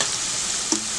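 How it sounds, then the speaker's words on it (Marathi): Onion sautés in a pan over a full-flame gas burner, a dense, even sizzle with a faint scrape of stirring partway through, close and steady throughout. "फुल गॅसवरतीच कांदा आपण परतून घेणार आहोत"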